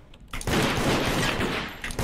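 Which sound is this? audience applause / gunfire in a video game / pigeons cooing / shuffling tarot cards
gunfire in a video game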